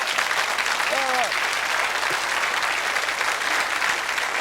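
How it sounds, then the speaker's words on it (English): A television studio audience claps loudly and steadily through the whole stretch, a thick unbroken round of applause with a brief voice rising over it near the start. "Give them a big round of applause, everybody."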